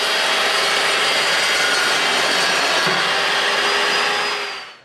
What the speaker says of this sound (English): Now I gotta cut this pipe down.